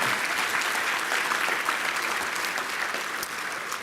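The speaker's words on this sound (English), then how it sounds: "Give them a big round of applause" An audience at an Urban League gathering claps for elected representatives, a broad sustained wash of many hands at even loudness that eases slightly near the end.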